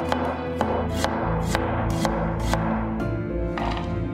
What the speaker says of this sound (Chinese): 生姜切片备用